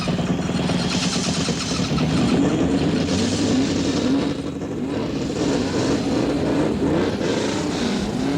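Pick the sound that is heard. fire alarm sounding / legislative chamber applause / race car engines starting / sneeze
race car engines starting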